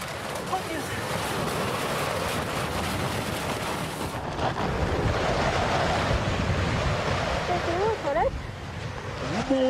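Strong wind on Mount Everest roars continuously and loudly across the mic in a broad rushing wash, with faint voices underneath.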